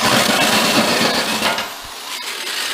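A smoking, worn-out drill with a centering bit bores a hole in a fuel tank for a 1991 twin turbo Mustang, giving a harsh, gritty grinding that runs loud and then briefly tapers off.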